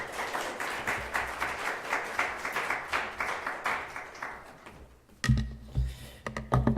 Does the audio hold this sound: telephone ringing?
no